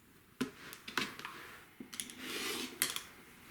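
Fabric patches for a quilt block being cut, with several sharp snips and soft rustling of cloth, close and quiet, with no talking.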